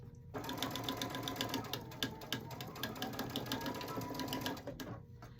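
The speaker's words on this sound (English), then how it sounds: "Now I'm done back stitching," Sewing machine running a continuous back stitch along a placemat seam, a close, steady rapid mechanical whir and clatter that lasts about four seconds before stopping.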